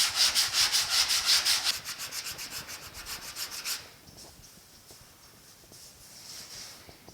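Sandpaper at 80 grit rubs over a repaired section of a 1950 Chevy five-window truck cab, feathering the work down. Fast, loud, rhythmic strokes run for a few seconds, then stop, leaving only faint scattered scraping.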